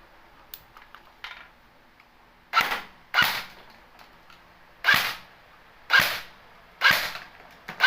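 Airsoft Thompson submachine gun firing BBs on semi-auto: six sharp, loud pops at uneven intervals of about a second, each ending in a short rattling tail, with softer clicks and handling noise before the first shot.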